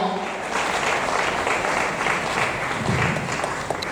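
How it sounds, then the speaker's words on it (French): Sustained audience applause at a certificate ceremony for Bible correspondence course graduates, a dense steady wash of many hands clapping, with voices mixed in beneath. "sous vos acclamations, s'il vous plaît"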